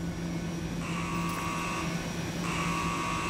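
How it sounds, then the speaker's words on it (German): Ship alarm in the space management game Jumplight Odyssey, two steady electronic tone bursts sounding over a constant low hum, fairly quiet with no talk. "Alarm, Alarm."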